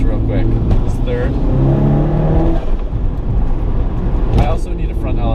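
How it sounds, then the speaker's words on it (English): A 400-horsepower Mitsubishi Lancer Evolution V engine revs up hard in second gear, a brief aggressive pull with rising pitch, loud and close, with talking over it. "that was a quick, like, little second gear rip"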